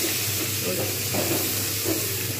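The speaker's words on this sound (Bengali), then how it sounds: "এইবার আমি এর মধ্যে যাবতীয় সবজিগুলো আমি সব দিয়ে দেবো।" Vegetables hit browned onions in a hot pan for a prawn and spinach ghonto, giving a loud, continuous close sizzle with hissing steam and faint stirring throughout.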